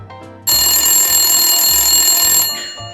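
An old telephone bell ringing loudly and close in an office scene from a vintage film, one long continuous ring lasting about two seconds.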